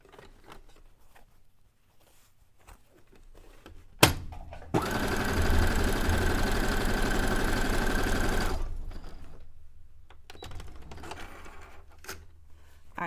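A sewing machine stitches through scrap fabric in one loud, close, continuous run of about four seconds, with quiet before and after.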